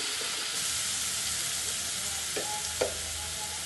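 Hot oil sizzles loudly in a pan for aloo paratha filling, a dense, constant frying hiss close by, with a couple of brief scrapes or clinks from stirring near the end and no voices.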